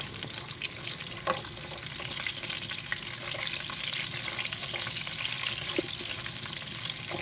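Onions sizzle and spit in hot oil while being sautéed for pork sinigang, a continuous close crackle with occasional stirring clinks and no talk.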